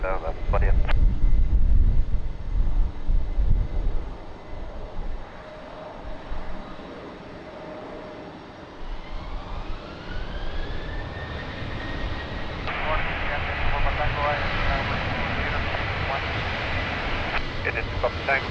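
A fixed-wing airliner taking off from runway 20 at Lisbon Airport in rainy weather, its engine roar building into a rising whine and sustained loud rumble, with radio chatter from air traffic control heard over it.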